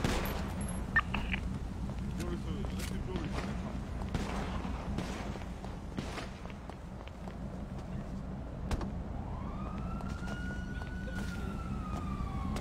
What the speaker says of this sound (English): Shots fired, we have to respond.